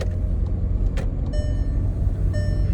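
Car driving along a road on a long trip home, steady low engine and tyre rumble throughout, close and continuous, with faint tonal beeps partway through.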